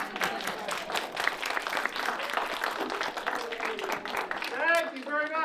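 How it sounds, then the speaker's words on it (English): A magic show audience claps in a steady burst of applause, with a performer's voice rising over it toward the end. "that's usually where I get a big round of applause."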